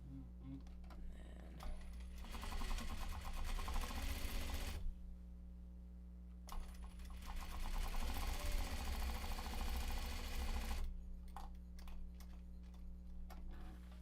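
A domestic sewing machine runs in two steady bursts of stitching, each a few seconds long, separated by a pause, with a constant low hum underneath throughout.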